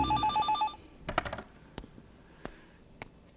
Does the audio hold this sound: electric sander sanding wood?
no